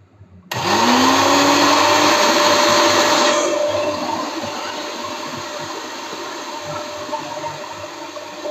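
A blender switches on and whirs loudly up close, its motor rising in pitch and then settling into a steady churning roar as it purées molokhia in hot soup.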